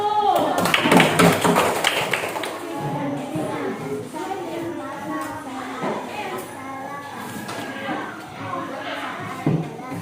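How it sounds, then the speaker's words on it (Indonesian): A classroom of students claps for a group's answer: a dense burst of hand clapping at the start, then fading into nearby voices and scattered taps for the rest. "Tepuk tangan untuk kelompok 1."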